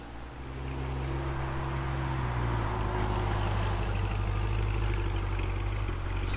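A 2008 Chevrolet Corvette with an LS3 V8, 14-inch Magnaflow mufflers and an X-pipe, rumbling deep and steady as it pulls away, the low exhaust note swelling after a quiet start and holding close by.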